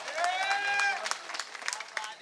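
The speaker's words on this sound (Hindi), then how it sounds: "ताली वाली बजाओ आप एक बार जोरदार" At a live poetry event, a raised voice gives way to an audience clapping, a burst of scattered applause that rises and thins over about a second.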